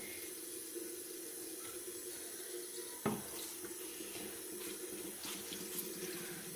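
A tap runs steadily into a sink while makeup brushes and a beauty blender are washed, a constant close splash with a brief clatter partway through and no talk.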